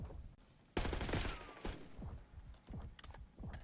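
Rapid bursts of gunfire in a competitive shooter video game match, sharp repeated shots and short volleys over quieter game sounds, with no talking.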